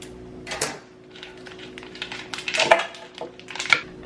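Scissors snip open a plastic packet of unsweetened frozen acai in a home kitchen, a few crinkly, crisp cuts and rustles at close range with clattering kitchen handling around them.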